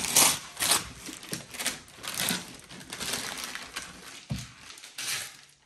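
Paper crinkles and rustles unevenly as a three-year-old girl unwraps a birthday present at home, with soft crackles and rips close by and some quiet speech in the background.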